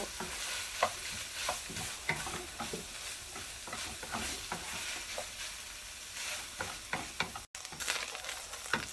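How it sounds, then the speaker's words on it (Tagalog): Ground beef for spaghetti bolognese frying in a pan, stirred steadily under a constant sizzle, with regular scrapes and clacks of the utensil up close and no talking. "hinahalo ng hinahalo"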